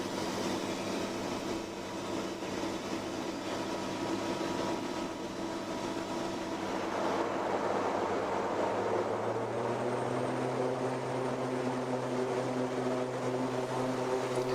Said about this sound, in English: There is one loop around the pattern, single engine, in a DC-3.